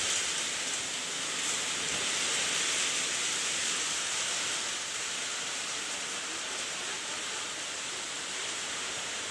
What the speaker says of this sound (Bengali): আর প্রচণ্ড বৃষ্টি হচ্ছে এখানে, আর খুব ঝড় হচ্ছে